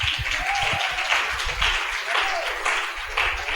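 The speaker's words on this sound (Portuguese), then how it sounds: "Palmas para esses homens." A church congregation claps in steady applause, broad and sustained, with a voice briefly rising over it.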